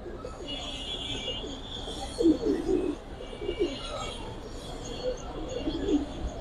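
Pigeons cooing in soft, low bursts, strongest around the middle and again near the end, with faint chirps from other birds and a quiet background hum at a pigeon market.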